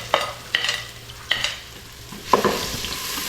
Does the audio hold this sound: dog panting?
no